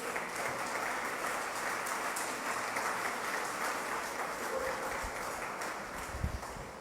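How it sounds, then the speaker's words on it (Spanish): A church congregation gives sustained applause during a sermon, a dense, even clapping from many hands that fills the room, heard at moderate distance and holding steady throughout. "¿Cuántos le dan un fuerte aplauso al Señor?"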